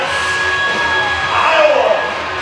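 A rodeo crowd in the grandstands at the Black Hills Stock Show broncs long-go roars steadily, with a swell of cheering and whoops midway.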